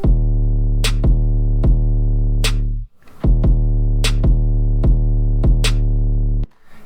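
A loud electronic drop loop of a deep sustained 808 bass with a punchy kick and a snare on a steady beat, playing twice with a brief gap between, no talking.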